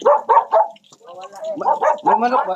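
A dog barks repeatedly nearby, a burst of three quick barks, a brief pause, then more yapping barks and whines.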